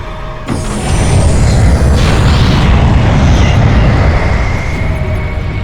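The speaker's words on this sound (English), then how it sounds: "Our spacecraft is the last to detach from the rocket at a distance of 300 miles from the ground." Spacecraft detaching from a rocket in a VR moon-journey simulation: a loud boom at the start rolls into a steady, heavy roaring rumble that fills the rest of the clip.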